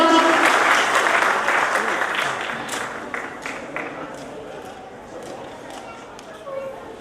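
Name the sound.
audience applause welcoming a performer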